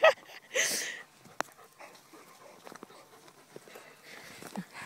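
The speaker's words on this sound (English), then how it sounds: "Are you a wet dog?" A wet dog, a female, pants and whimpers close by in a mostly quiet room, with a sharp yelp or bark at the start and soft breathy panting and whines after it.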